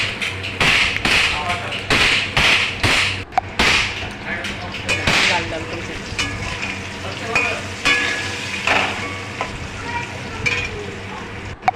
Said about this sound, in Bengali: আলুগুলোকে ভালো করে লাল লাল করে ভেজে নেব